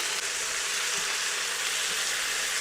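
Garlic and onion sizzle steadily in a hot pan, a dense, even hiss of frying that holds at a constant level throughout with no talking.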